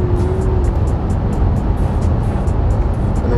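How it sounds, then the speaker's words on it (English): Car with a quad exhaust accelerating in traffic, a loud steady engine roar with heavy low rumble and wind noise throughout, no talking. "you can actually hear the air, the roar of the exhaust there, the car and quad exhaust"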